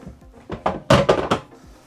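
A few quick hollow thunks and clacks close by as a tilt-out sink tray in a 2022 Newmar Kountry Star motorhome is tipped open and knocked into place.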